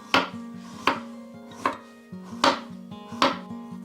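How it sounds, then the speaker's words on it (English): A knife slicing ginger thinly on a cutting board, six evenly spaced sharp chops that thud clearly and close against the board. "Cut some ginger, not much, a little bit, as thinner as possible."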